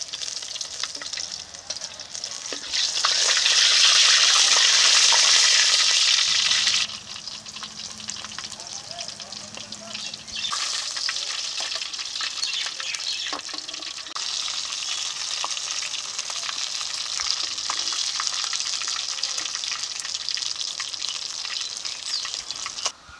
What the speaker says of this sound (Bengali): এই তেলে দিয়ে দিচ্ছি গোটা জিরে দিয়েছি একটু তেজপাতা দিয়েছি পেঁয়াজ কুচি পেঁয়াজটাকে এখন ভালো করে ভেজে নেব